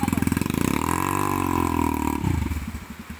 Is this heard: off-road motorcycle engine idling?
yes